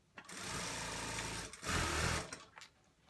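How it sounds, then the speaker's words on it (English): A sewing machine stitches across the bottom of a fleece hoodie in two steady bursts of rapid mechanical whirring, each about a second long with a short pause between, followed by a few faint clicks. "And then sew across the bottom."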